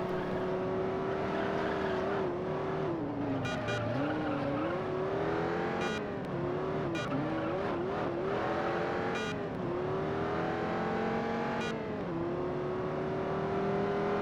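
A race car engine in the video game Juiced holds a loud, steady high-rev whine, pitch wavering through corners and brief shifts, with occasional tire squeal and no talking.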